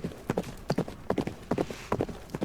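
Video-game hooves of the horses Nighthawk and Falcor in Lust Royale: Draconia Amortis clip-clop in a steady, brisk rhythm of paired beats, close and clear, with no talk.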